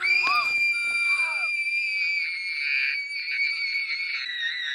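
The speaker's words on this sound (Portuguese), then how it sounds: "ela dá esse grito aí" A girl's shrill, sustained horror-film scream from Orphan (2009), loud and piercing, holding steadily for several seconds with no talk over it.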